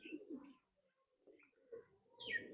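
Pigeons coo softly in short, low bursts, some distance away in a quiet outdoor village setting, with a faint higher chirp near the end.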